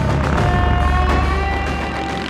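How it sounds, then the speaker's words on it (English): An FPV racing drone lifts off and flies away, giving a loud, close, steady high motor whine over a dense rushing roar that holds throughout. "Let go of the drone. It's leaving."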